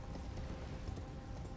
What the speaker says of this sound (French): Le cheval, il peut passer.